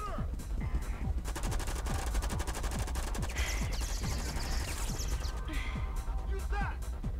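Gunfire in a video game chase scene, a dense run of rapid shots and bursts over music and effects, with voices talking throughout.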